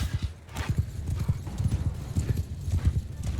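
Cavalry horses' hooves drum in a Mount & Blade 2: Bannerlord battle, a dense, steady clatter of many galloping hooves close by, with a neigh or two mixed into the rush.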